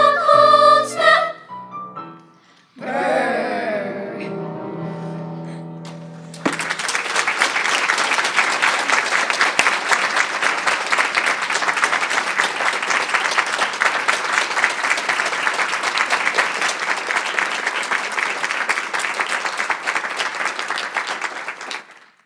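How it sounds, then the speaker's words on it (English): Brief vocal sounds give way to sustained, steady applause from a large audience at a Board of Education meeting, clapping loudly and evenly for many seconds before fading. "One more round of applause."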